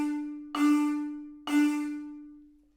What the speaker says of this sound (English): This paper vibrates when the bar is struck, creating a buzzing sound like this.